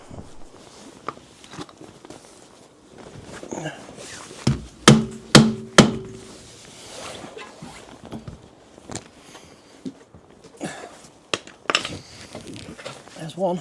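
Several sharp metallic blows from a copper hammer striking a stuck BMW alloy wheel ring out in a quick cluster, followed by scattered knocks and clatter, with a voice speaking briefly.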